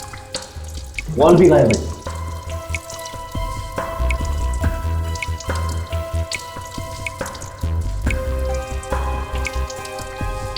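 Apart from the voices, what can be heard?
water dripping from a leaking bathroom flush tank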